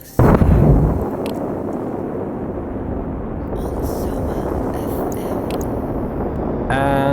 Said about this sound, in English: I have a flying rocket!